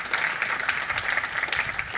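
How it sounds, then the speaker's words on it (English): A church congregation applauding its elders, a brisk, even clatter of many hands clapping close and moderately loud for the whole stretch, with no talking. "you guys can clap for elders"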